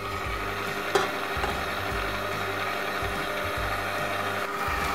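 An electric mixer beating butter and sugar for a red velvet cake batter, a steady close whirring drone with a faint scraping texture throughout.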